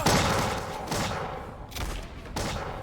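Soldiers open fire during a video game siege of Genoa: dense, loud bursts of overlapping gunfire crackle in quick waves, with a couple of heavy thuds in the mix.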